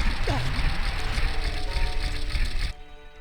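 Water rising in the Water Temple of Zelda: Ocarina of Time, a steady rushing, rumbling swell under faint game music that continues for about three seconds and then drops away abruptly.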